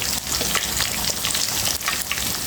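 Spices with chilli powder, ginger-garlic paste and turmeric fry in a pan, a dense continuous sizzle with crackling bursts, close and steady throughout without any voices.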